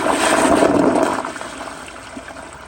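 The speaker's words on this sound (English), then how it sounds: "And I'll give y'all another flush." A 1994 Kohler Wellworth Lite toilet flushes loudly and close by, with a rushing swirl in the first second that tapers into a softer draining trickle, ending early as the flapper closes too soon.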